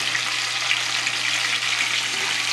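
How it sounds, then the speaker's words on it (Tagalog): Bitter gourd (ampalaya) with garlic sautéing in a hot pan, giving a steady, loud hissing sizzle that runs unbroken throughout with no voices. "Gigisa tayo ng ampalaya"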